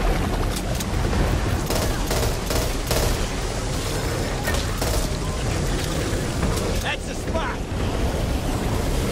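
Light machine gun fire in Back 4 Blood, a dense, continuous roar of rapid shots and chaotic noise that barely lets up, with a voice talking over it.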